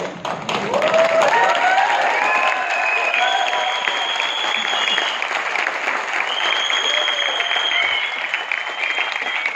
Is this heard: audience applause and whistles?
yes